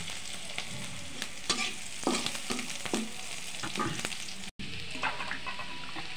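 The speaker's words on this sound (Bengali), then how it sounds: "তেলের মধ্যে পেঁয়াজ কাঁচামরিচ দিয়ে দিচ্ছি একসাথে। এখন একটু লাল করে ভেজে নেব।" Onion and green chili fry in hot oil, the pan left with fish just fried in it, giving a continuous sizzle with frequent scraping stirs and clatters of a utensil, and no talking.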